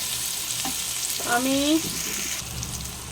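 Potatoes, yardlong beans and onion fry in a pan with a steady close sizzle, while a few stirring scrapes and a short squeaky rasp of the utensil rise briefly in the middle.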